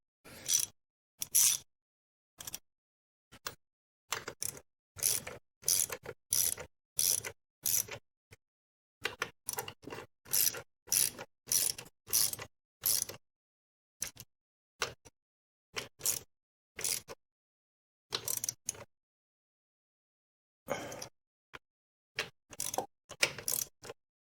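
Bolts being tightened on the transmission crossmember of a 1957 Chevrolet Bel Air restomod, heard as a long series of quick, close ratcheting clicks in bursts separated by short pauses.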